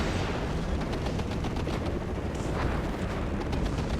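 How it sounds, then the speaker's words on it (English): Artillery and mortar barrages in the WARNO real-time strategy game roar as dense, continuous rumbling blasts and gunfire, loud and sustained with no talking over it. "He's dropping artillery on them and mortars on them."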